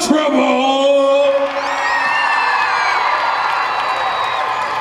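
A concert audience at a Rockin For Choices 2012 show cheers, whoops and yells for a band, a loud, sustained crowd roar with shouted voices rising above it.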